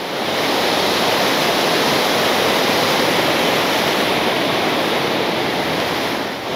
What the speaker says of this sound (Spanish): Tenemos que atravesar este río que vemos aquí.